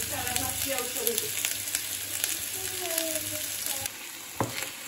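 Potatoes, onions and chorizo sizzle and crackle steadily in a pan, with a few scrapes and clinks of stirring, fairly close and with no talk.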